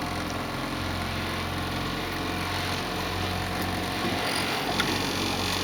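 An outboard kicker motor on a boat, run by joystick, keeps up a steady, fairly loud engine drone with a little throttle applied after idling in first gear, and the tone barely changes throughout.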